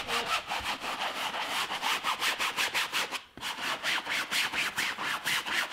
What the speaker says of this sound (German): Wir reiben das einfach mal so ein bisschen alles raus.